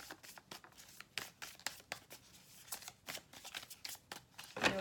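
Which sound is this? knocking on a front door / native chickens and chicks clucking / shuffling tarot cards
shuffling tarot cards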